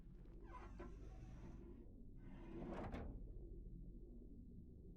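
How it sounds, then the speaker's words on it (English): In the video game Return to Grace, a manual floor winch cranks open a heavy sliding door: low steady rumble under clanking mechanical scrapes, swelling into a loud grinding slide near the end. "Working the winch will open the door."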